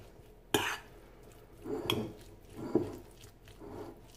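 Tuna, olive and mayonnaise filling stirred in a bowl, with a sharp clink of spoon on the bowl, then a few soft, wet mixing strokes at close range, with no talk.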